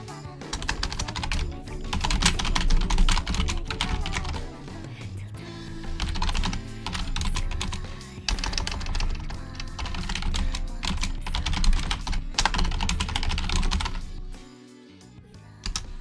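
Fingers type quickly on a computer keyboard in continuous bursts of clicks, laid over background music from a Final Fantasy 14 trial theme.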